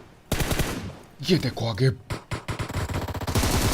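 Rapid video game gunfire crackles in loud automatic bursts at the start and again near the end, with a person talking briefly in between.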